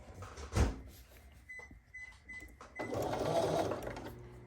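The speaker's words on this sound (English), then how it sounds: "So we're gonna sew these two together just like this." A sewing machine stitches pieced quilt blocks together in a short run after a knock and some handling clatter, its steady whirring mechanism close and alone with no talk.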